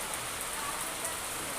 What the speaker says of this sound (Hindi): यहाँ पे बहुत ज़ोर से बारिश हो रही थी